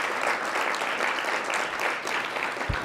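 Audience at a Capitol Riverfront BID annual meeting giving a round of applause, sustained dense clapping from a large room, steady and moderately loud throughout.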